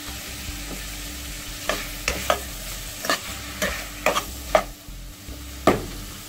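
Ackee sautéing in a pan with coconut flavor, a steady close sizzle broken by repeated sharp scraping strokes of a utensil stirring, with no voices.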